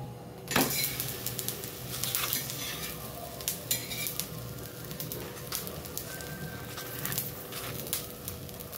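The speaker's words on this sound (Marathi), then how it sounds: "तवा गरम झालेला आहे, त्या तव्यावर" Steady sizzling of a bottle gourd paratha on a hot griddle over a medium flame, with occasional scraping and clinks of a utensil against the pan.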